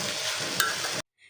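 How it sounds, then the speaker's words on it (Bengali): Sliced bitter gourd frying in a pan while being stirred, a close, brief sizzle with a quick scrape of the spatula, cutting off abruptly after about a second. "আপনাদের সাথে বক বক করতে করতে না আমি করলা ভাজাটা বসাই দিছি"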